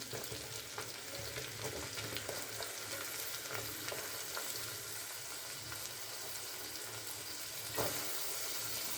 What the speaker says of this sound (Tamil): வெங்காயம் கொஞ்சம் உப்பு போட்டு வதக்கிடலாம்